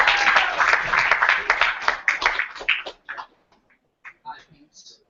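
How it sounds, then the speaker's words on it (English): An audience at a Lyricist Loft tribute to Brother Mike claps once more for Sam, a loud burst of many hands that fades after about three seconds into scattered claps and a few voices. "clap it up for Sam one more time"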